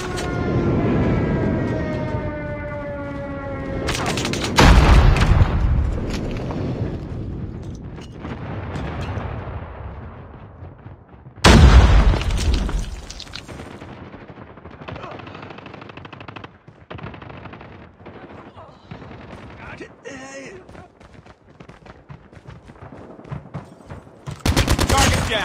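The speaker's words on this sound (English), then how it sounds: "Friendly airstrike incoming." Airstrike explosions and rapid gunfire in the Call of Duty video game, with loud booming blasts near 5 and 12 seconds amid sustained machine-gun bursts, a rising whine early on, and intermittent battle noise throughout.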